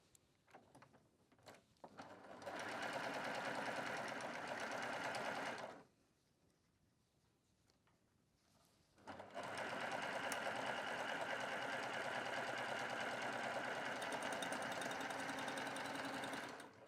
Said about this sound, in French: Donc là, je vais coudre le côté entièrement.